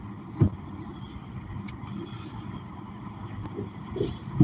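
Steady low engine and road rumble from inside a moving car, with a couple of soft thumps and no clear talking.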